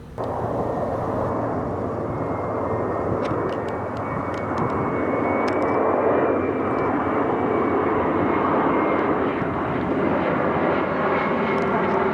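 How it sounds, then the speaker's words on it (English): An Endeavor Air CRJ-700 regional jet at Valdosta Regional Airport gives off a loud, sustained roar with a faint rising whine layered on top, steady from start to finish. "This is a Resurrected Endeavour Air CRJ 700."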